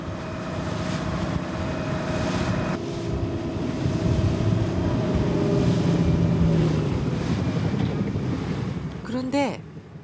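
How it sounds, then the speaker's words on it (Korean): Cold winter sea wind roars steadily over waves around a small island off Korea, with a boat's engine humming underneath, loud and close, and a brief higher whine near the end. "아직은 차가운 바닷바람이 매섭게 옷깃을 파고듭니다."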